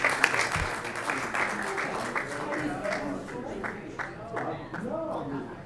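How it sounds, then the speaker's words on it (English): Audience applause at a city council meeting fills the room for several seconds as council members gather at center stage, with people talking over the steady clapping. "Can we give them a round of applause?"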